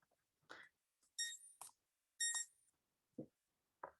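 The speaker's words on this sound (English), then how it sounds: "Sorry, that's an alarm." An alarm sounds in two short bursts of bright, high-pitched tonal beeps, separated by quiet gaps and mixed with a few softer clicks and thuds.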